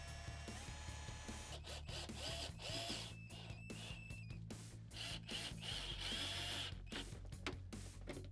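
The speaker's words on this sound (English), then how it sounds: "I'm going to go ahead and pre-drill it anyway" A power drill pre-drilling a screw hole for shelving whirs in short bursts that stop and start, with clicks and mechanical rattling between runs, close and moderately loud.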